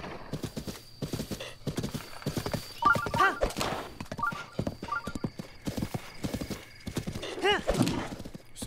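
Rapid hoofbeats of a horse in Zelda: Breath of the Wild drum in a steady galloping rhythm, close and fairly loud, with the horse neighing partway through.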